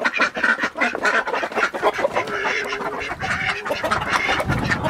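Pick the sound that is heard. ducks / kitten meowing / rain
ducks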